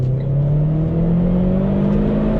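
A Renault Clio 4 RS18 engine pulls hard under acceleration, its loud, steady drone rising gradually in pitch, close and with no one talking.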